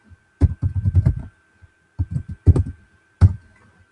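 Fingers tap out quick bursts on a computer keyboard, clattering keystrokes in short runs separated by brief pauses, close and clear against a quiet background with no talking.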